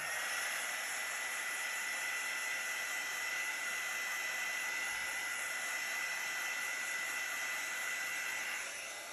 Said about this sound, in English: I'll just use the heat embossing tool again. That will help any little cells to come up.